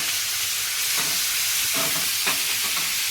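Ginger, garlic, green chilli and tomato sizzle and fry in a pan, a steady loud hiss with occasional stirring scrapes, no voices.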